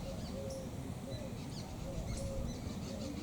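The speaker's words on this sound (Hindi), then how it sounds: "सुनो कितनी सुंदर चिड़िया बोल रही है।" Small birds chirping and trilling outdoors in short, repeated high calls, moderately distant, over a steady hiss of background ambience.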